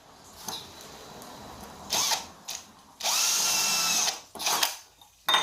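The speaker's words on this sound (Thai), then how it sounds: "ผมก็ทำการเจาะเลย" Power drill boring a hole in scrap steel for a folding chair, several short whirring bursts followed by one longer sustained run and a few quick pulses, close and loud against a quiet background.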